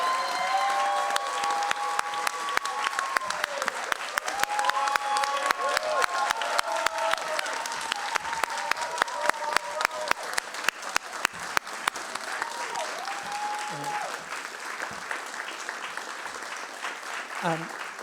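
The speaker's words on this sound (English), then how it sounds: "I guess it's another round of applause for all of them" Sustained audience applause at an artist award announcement, dense steady clapping with cheers and scattered voices, tapering slightly near the end.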